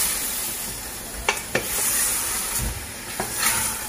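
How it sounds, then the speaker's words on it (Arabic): Meat frying in a pan for an Algerian trida or chakhchoukha, with onions to follow, giving a steady low sizzle and hiss broken by a few sharp stirring scrapes and clicks, close by and with no talk. "هنا نقلي اللحم تاعنا بيان"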